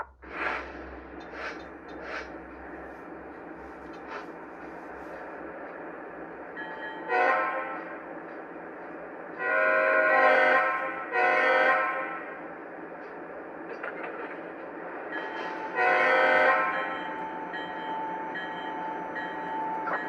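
A Lionel model train, a Norfolk Southern ES44AC diesel locomotive, runs with a steady mechanical hum and rattle, while its horn sounds in several short, loud blasts spread across the run.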